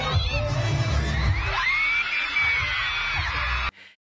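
Fans at a VTuber concert screaming and cheering together, a loud dense crowd roar with high shrieks rising over it, then cutting off abruptly near the end.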